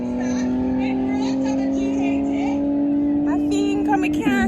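Fast cars roar past at a car show at Vernamfield, Clarendon, Jamaica, with a loud sustained engine drone and brief higher revving near the end, while people talk over it.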